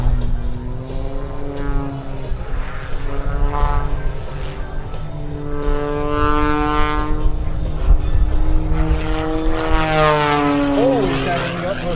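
A Rob Holland MXS-RH aerobatic propeller plane at the 2015 Great New England Airshow flies an inverted frisbee maneuver, its engine droning steadily with rising and falling pitch sweeps as it passes, with a commentator talking throughout.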